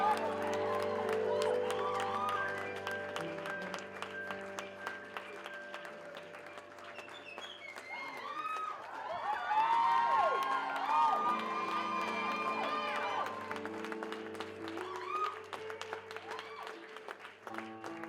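A standing concert audience applauds and cheers, with whoops and shouting rising over music that keeps playing, the crowd noise swelling in the middle and continuing to the end.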